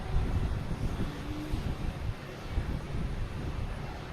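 A British Airways airliner flying near Boston Logan Airport makes a faint, distant rumbling drone that wavers gently with some wind buffeting.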